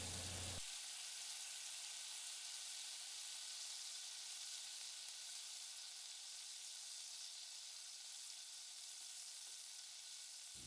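Chopped red onion sizzles steadily in a pan while a Thai coconut curry is cooked, a constant broadband frying hiss that holds close and even throughout with no talking.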